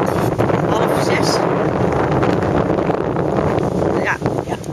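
Strong wind gusts over the shore at Muiderberg, buffeting the microphone in a continuous loud roar, while a person speaks underneath.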